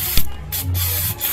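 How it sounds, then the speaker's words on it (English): Brake cleaner sprayed onto a Subaru parking brake shoe assembly in short hissing bursts, close and fairly loud, with a faint mechanical hum underneath. "I'll take some brake clean and just kind of hose everything down."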